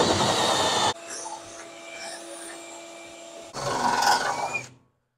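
An aggressive unibit step drill bores through fiberglass on a 1969 Camaro, with two loud grinding bursts of drilling separated by a quieter pause, cutting off abruptly at the end.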